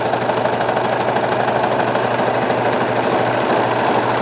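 A serger stitching knit fabric, running continuously with a fast, loud, close mechanical whir and rhythmic needle chatter, no voices.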